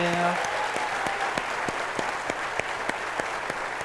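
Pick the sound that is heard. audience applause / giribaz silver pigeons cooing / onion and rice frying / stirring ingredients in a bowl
audience applause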